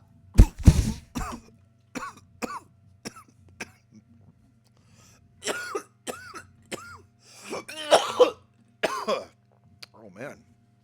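A person coughs several times close up, a burst of sharp coughs at the start and more scattered coughs and throat clearing among bits of speech.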